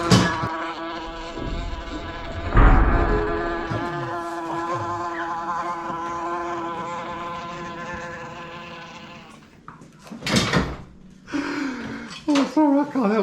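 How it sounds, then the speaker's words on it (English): A wasp buzzes close by in a workshop while a Lambretta cutdown scooter is being built, a steady droning hum with harmonic whine that lasts several seconds before sharper knocks and clatter break in. "that's not the way you get rid of wasps"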